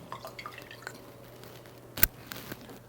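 Worcestershire sauce dashed into a Bloody Mary, a few faint soft drips and splashes in a quiet room, with one sharper glassy clink near the middle.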